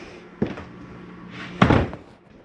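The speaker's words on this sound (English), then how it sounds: "I'm gonna walk back here and close this bathroom door again." A bathroom door inside a 2019 Forest River Salem 36BHDS RV gives a light bump, then swings shut with a firm, close slam that briefly rattles and dies away.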